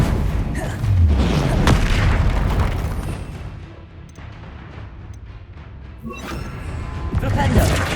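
The Convulso spell is cast in Hogwarts Legacy amid heavy combat, with loud booming impacts and crashes rising and falling while a voice calls out over the fighting.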